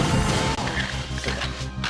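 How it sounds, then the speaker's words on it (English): Glass breaking from a rocket blast in the video game Perfect Dark, a loud crash with a burst of shattering glass at the start, followed by rhythmic game music and smaller impacts. "if you shoot the rocket at it, it'll just blow up the glass"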